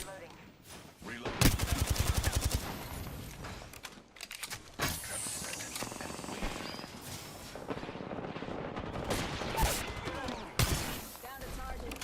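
Dense bursts of automatic gunfire from a sci-fi shooter game, loud and repeated in rapid volleys across the whole stretch, with a voice talking over the shooting.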